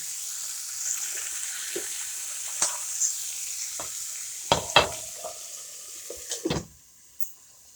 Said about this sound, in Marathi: भेंडी आपण हळून घेऊ मस्त एकसारखी मीठ आपण आधीच टाकले हे वापस शिजून घेऊ